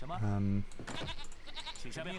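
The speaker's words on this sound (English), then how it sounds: "Eat the goat, please." A goat bleats once in Age of Empires III: Definitive Edition, a loud, near, wavering call, then someone talks over faint game sounds.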